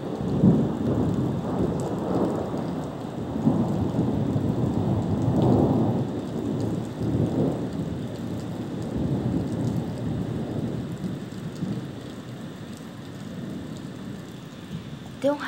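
Very heavy rain pours at night in Poços de Caldas, Minas Gerais, with deep rolling thunder rumbling through a steady wash of rain beating on surfaces.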